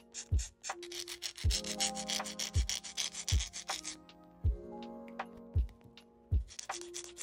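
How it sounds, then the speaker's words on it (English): Repeated short rasping strokes of a hand file shaping acrylic nails scrape back and forth at close range, with soft thumps between passes and a faint tonal hum underneath. "I'm just going to be reshaping them with my hand file."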